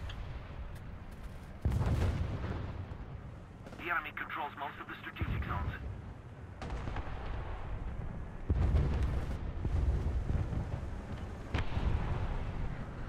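Muffled bursts of gunfire and booming explosions from a War Thunder ground battle roll on and off, with voices talking over the action.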